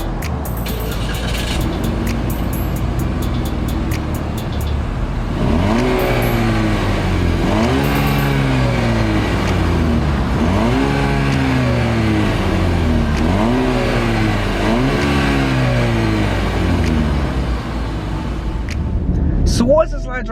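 A 2014 Cadillac CTS 2.0T is driven, its engine heard from inside the cabin rising and falling through several repeated revs and gear changes, with a steady road drone underneath.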